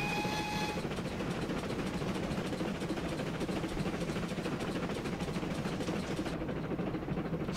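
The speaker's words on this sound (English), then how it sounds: "36 miles an hour, that's a really nice chuffing loop." A GWR 48/14/58xx steam locomotive in Train Simulator 2016 climbing a steep grade at about 36 mph, with rapid steady chuffing close by and continuous rumbling over the whole stretch.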